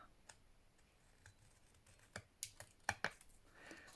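A few crisp scissor snips trimming off extra bits of a skirt in a craft project, faint and close, arriving as a quick cluster of sharp clicks after a quiet stretch.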